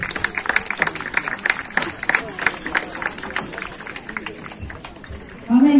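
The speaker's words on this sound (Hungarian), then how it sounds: "egy tapsot megérdemelnek" Spectators at an equestrian day clap for winning pony carriage drivers, scattered outdoor claps with separate hand strikes that thin out over several seconds while voices talk over them.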